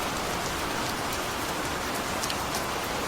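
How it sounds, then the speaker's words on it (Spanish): Raindrops pattering on the ground and tree leaves in a storm, a dense, even hiss of rainfall with occasional sharper drips standing out, close and continuous throughout. "Las gotas de lluvia impactando contra el suelo"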